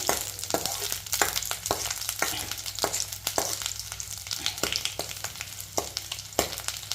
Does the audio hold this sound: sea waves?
no